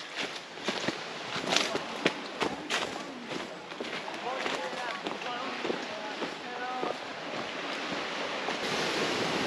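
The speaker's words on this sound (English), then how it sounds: "I can hear the waves crashing." Surf washes in a continuous rush onto a small secluded beach on Koh Mook, Thailand, with wind rumbling across the microphone, while people talk faintly nearby.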